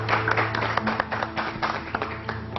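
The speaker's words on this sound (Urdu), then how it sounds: "تالیاں بجائیے آپ لوگ, سب لوگ مل کے" A studio audience on a Pakistani television talk show applauds steadily, the dense clapping continuing at an even level for the whole stretch with no talk over it.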